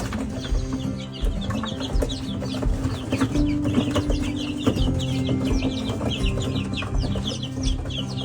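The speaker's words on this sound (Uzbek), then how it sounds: "Mana jo'jalar hujumga tushdi." A flock of chicks rushes to their feed, a dense, steady chatter of overlapping peeps and clucks that stays busy and close throughout.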